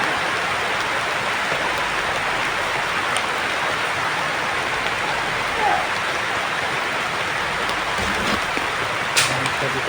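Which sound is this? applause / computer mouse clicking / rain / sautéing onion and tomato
rain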